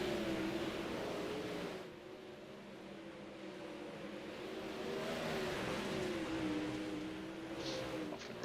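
360 sprint car engines drone and whine together in an iRacing video game race at Volusia Speedway Park, a steady buzzing pack with pitch rising and falling as cars sweep past, no talk.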